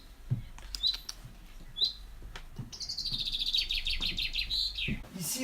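Small songbirds, including chaffinches, chirp and trill in short bursts, then one sings a longer bright phrase, fairly close, with no voices over them.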